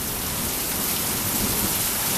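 Heavy rain pours steadily during a strong thunderstorm in Wilmore, Kentucky, a dense, continuous hiss with no talk.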